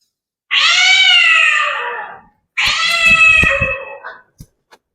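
A cat meows twice in a stage drama, each call long, loud and drawn out, the second followed by a few faint knocks.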